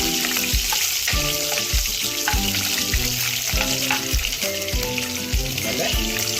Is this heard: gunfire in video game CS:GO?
no